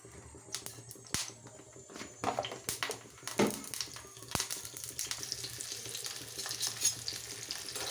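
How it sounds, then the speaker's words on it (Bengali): Sizzling of vegetables, pointed gourd among them, frying in hot oil while being stirred, with scattered scraping clinks from the utensil; fairly quiet and close, no voices. "আনাজগুলো আমি দিয়ে দিলাম আনাজগুলো ভালো করে কষিয়ে নেব তেলে আনাজটা ভাজা হয়ে গেলে আলুটা দেবো"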